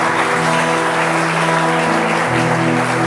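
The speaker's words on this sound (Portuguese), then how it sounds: "Aplauda o Senhor." A church congregation applauding the Lord during a sermon, dense sustained clapping filling the room loudly and evenly, with a held organ or keyboard tone underneath.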